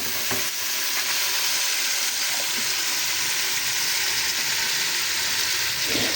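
About two chopped tomatoes fry in a pressure cooker for chicken haleem, a steady close sizzle with occasional stirring scrapes throughout.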